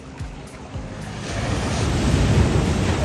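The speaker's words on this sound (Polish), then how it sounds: "Ale fale przyszły." Caribbean sea waves wash onto the shore in Grenada, a close, steady surf roar with wind buffeting the microphone, swelling louder as the water surges in.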